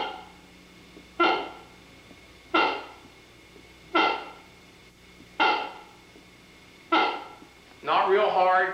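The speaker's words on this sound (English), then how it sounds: "I'm making the reed vibrate, and then I just take my mouth off of it to get that wah." A reed moose call blown with cupped hands sounds a series of six evenly spaced, nasal wah-like calls, each swelling then fading, fairly close and loud with quiet gaps between.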